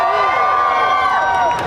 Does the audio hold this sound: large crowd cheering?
yes